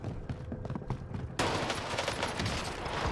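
KAR98K bolt-action sniper rifle fire in the Warzone video game: a burst of sharp cracks, then a sudden loud, dense blast of gunfire and noise that carries on for the rest of the moment.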